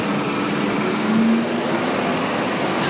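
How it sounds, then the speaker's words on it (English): A large crane runs outside a vinyl compound plant at a plastics and chemicals pellet factory, giving a steady, loud mechanical engine drone with a faint tonal hum throughout and no talk. "You can hear that crane."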